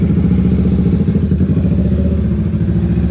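Kawasaki Ninja 650 motorcycle fitted with a Drift Xaust exhaust with headers and a resonator, idling around 95 in a steady, close, deep burbling rumble with fine rhythmic pulsing throughout.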